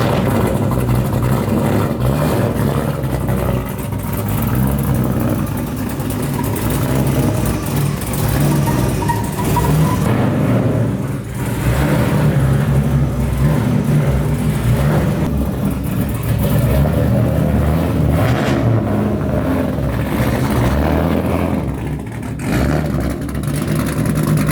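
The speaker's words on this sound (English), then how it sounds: "I need to get the car in the trailer." Car engine revving and idling as it is driven up into a trailer hitched to a 7.3 Powerstroke truck, a loud, close, continuous rumble with surges of throttle and no talking.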